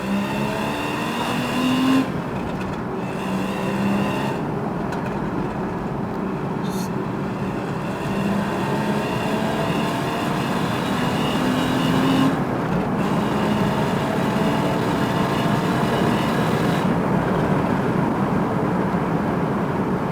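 A Porsche Boxster 981 with a 2.7 engine and manual gearbox on an extended test drive, its engine droning steadily from inside the cabin, with brief dips in the note at several gear changes along winding roads.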